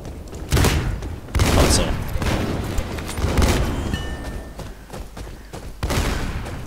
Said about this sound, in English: that Bootsy Baby dude is owning everyone. With a shotgun!